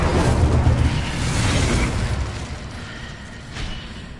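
Confringo blasting spell explosions in Hogwarts Legacy, a loud booming burst up front that rolls and decays over several seconds, with a smaller pop near the end, no voices.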